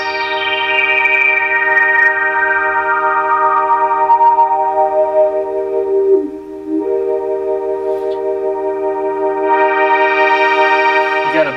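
Opus 3 synthesizer routed through a single-stage Polymoog low-pass resonator filter, a loud sustained chord whose brightness sweeps down and then back up, with a resonant whooshing tone and a short dip midway.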